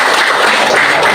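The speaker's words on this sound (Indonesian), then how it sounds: "Oke, tepuk tangan." A classroom group applauds after being invited to present, a brief loud burst of dense clapping close by.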